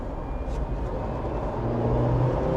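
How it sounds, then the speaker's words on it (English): The hybrid engine of a 2025 Jeep Wrangler kicks in under harder throttle, a steady in-cabin engine drone and road hum with a low tone that rises slightly near the end, without speech. "it looks like the engine did kick in as I got on the throttle a little harder"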